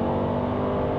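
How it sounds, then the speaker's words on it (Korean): A 2025 Mercedes-Benz GLB 250 4matic engine hums in a steady low rev, a smooth continuous drone with a faint whir, heard briefly without voices. "엔진 회전 질감은 꽤나 스포티한 느낌들도 받을 수 있도록 구성을 해놨는데요"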